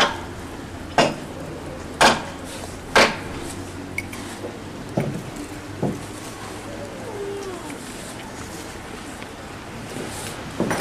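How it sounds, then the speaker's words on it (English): Sharp metallic strikes ring out at irregular intervals, a few loud hits followed by softer taps, over a steady background hum. "Here, you, take a hammer, nail them through."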